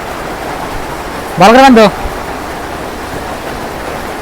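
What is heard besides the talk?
heavy rain falling outside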